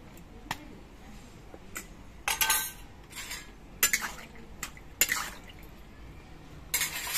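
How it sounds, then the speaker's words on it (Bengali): Several sharp metallic clinks and clatters of a lid set on a wok of boiling young jackfruit, spaced irregularly over quiet background. "এবার কড়াইটা একটু ঢেকে দিচ্ছি"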